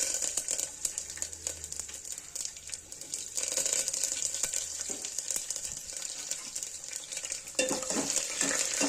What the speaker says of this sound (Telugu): రెడ్ చిల్లీ, వెల్లుల్లి, కరివేపాకు వేసుకొని లిటిల్ ఫ్రై చేసుకోవాలి.